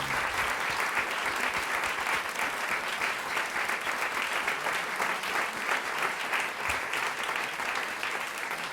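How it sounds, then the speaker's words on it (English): Sustained applause from an arts-event audience thanking a panel of speakers, a dense, steady wash of many hands clapping at even loudness throughout. "Please give them a round of applause."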